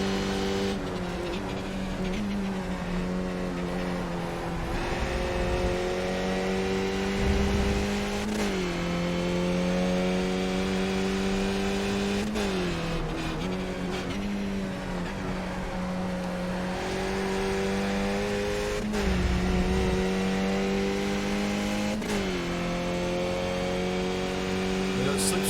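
Skip Barber race car engines in the iRacing sim at a road course, a loud, steady whine that drops sharply at each gear change and rises again under acceleration, with other cars close by.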